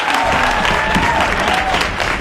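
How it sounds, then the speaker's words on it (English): Loud, sustained applause from a sizable crowd, a thick wash of clapping that holds steady throughout, with a few voices and cheers mixed in. "can we give everybody for Beyond the Bars a hand of applause for such an amazing job?"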